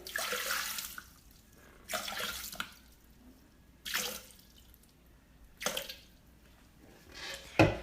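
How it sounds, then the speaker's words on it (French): Water poured into a Thermomix mixing bowl to measure 350 g for sfenj dough, coming in four or five separate splashy bursts with short quiet gaps between them, close and fairly soft, with no voices. "On commence par mettre 350 g d'eau dans notre bol."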